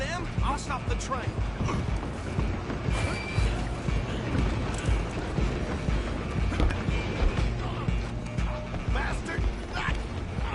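A train rolls along in the Western video game Red Dead Redemption 2, a dense continuous clatter and rumble of wheels and cars, with galloping hooves and shouting voices mixed in throughout.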